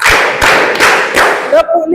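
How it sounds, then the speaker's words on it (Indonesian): A class claps a rhythmic pattern, four loud, close sharp bursts of many hands at a steady pace, followed by a brief voice as the clapping stops. "Tepuk 4."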